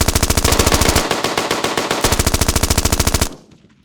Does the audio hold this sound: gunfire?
yes